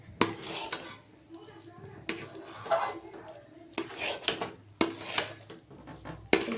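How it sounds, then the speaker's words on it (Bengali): Fried nuts and dried fruit are stirred into dry roasted semolina in a pan, giving repeated scraping, rasping strokes of a spoon against the metal, close and uneven in rhythm, with a voice talking at times. "সবগুলো বাদামকে ভালো করে সুজির সাথে মিশিয়ে নিতে হবে"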